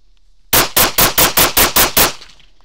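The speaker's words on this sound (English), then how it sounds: "When your front sight touches the center of the target, target, target, target, break the shot." Eight pistol shots fired at a target in a steady, evenly spaced string, each a sharp loud crack with a short decay, close to the listener with no talking.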